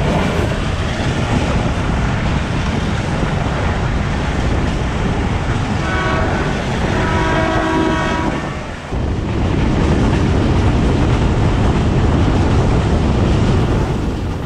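Mehar Express train running at over 80 km/h between Multan and Kot Addu, heard from inside an AC standard coach: a loud, continuous rumbling roar with rhythmic rail clatter and a brief dip in level midway.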